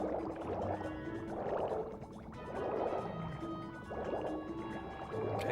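A penguin swims through water in the PS2 game Happy Feet, making soft rhythmic sloshing and gurgling strokes that swell and fade about every second and a half, faint and steady, with no speech.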